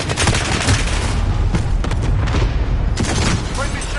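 A grenade goes off in the Call of Duty Modern Warfare video game amid loud, dense battle noise with repeated booms and gunfire bursts, with voices calling out over the din.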